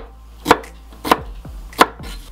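A knife chops through vegetables for a winter salad, three sharp, separate strikes on a cutting board spaced about half a second apart, close and crisp with quiet gaps between.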